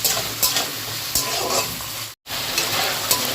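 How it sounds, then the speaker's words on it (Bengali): Prawns sizzle loudly in mustard oil in a wok, with a continuous hiss punctuated by several sharp stirring scrapes and spatters and a brief silent gap midway, no voices. "এই দেখো চিংড়িগুলোকে ভাজা হয়ে গেছে"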